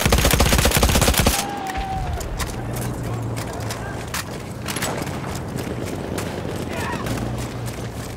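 Enemy machine gun fire in Battlefield 1, heavy rapid bursts at the start, then scattered shots and crackling gunfire across a busy battlefield din, with a voice shouting in German over it.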